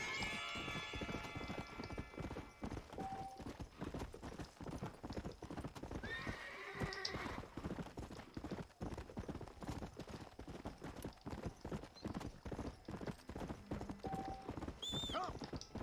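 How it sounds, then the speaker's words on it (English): A horse galloping in Red Dead Redemption: Undead Nightmare, rapid hoofbeats pounding continuously and close, with loud neighs breaking through near the start and end. "I don't think I've called the horse this early in a long time"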